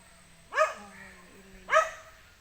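A dog barks twice nearby, two sharp, loud barks about a second apart with a faint whine between them against a quiet background.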